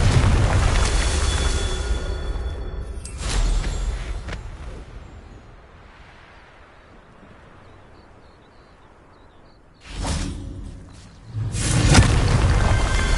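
The Confringo explosion spell bursts in Hogwarts Legacy: heavy booming blasts with deep rumble, fading into a quieter stretch before more loud impacts erupt.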